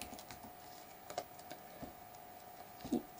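Soft clicking of keys on a computer keyboard as a command is typed, a sparse run of light taps at an irregular pace over quiet background hum, with no voice.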